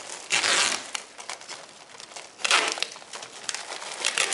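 AC50UL duct tape is wrapped around a duct, giving close crinkling and crackling bursts as the tape unrolls and is pressed down, with two louder stretches amid irregular rustling.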